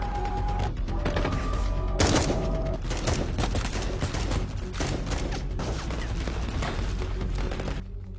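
Rapid bursts of gunfire crackle through a film shootout as soldiers fire on enemies from inside a building, dense volleys and sharp cracks continuing loudly for several seconds with a heavy boom early on.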